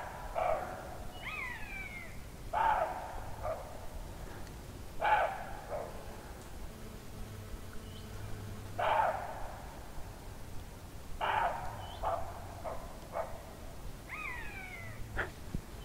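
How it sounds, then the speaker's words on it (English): Deer barking in the distance, sharp calls repeating at irregular intervals of a few seconds across open countryside, with a buzzard also around. "There's a deer barking that way, and a buzzard up there."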